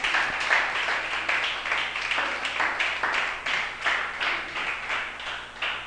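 Church congregation applauding at an anniversary service, a sustained crowd of claps with rhythmic surges of unison clapping, fairly close and steady throughout, with no talking.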